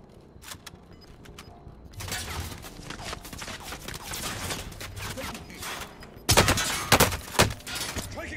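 Gunfire in Call of Duty Warzone: scattered rapid shots at first, then dense sustained automatic fire, with a louder, closer burst near the end. Footsteps and mechanical clatter sit underneath, with no talk.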